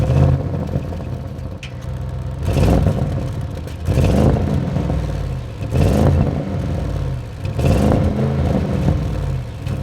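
An Audi RS7 revs hard four times in a row, each throttle blip rising to a loud roar and then falling back to a rumbling idle with some clatter, close to the car and with no talk.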